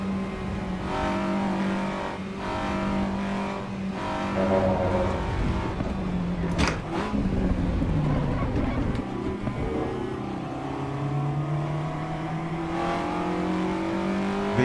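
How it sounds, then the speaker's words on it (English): A Honda race car engine in Assetto Corsa Evo revs hard through the gears, climbing and dropping in pitch with gear changes, loud and steady throughout. "it does sound like a Honda to be fair"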